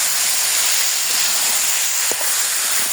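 Potato and eggplant pieces fry in hot spiced oil in a pan for a Bengali koi fish curry, producing a loud, steady, close sizzling hiss throughout with no voices.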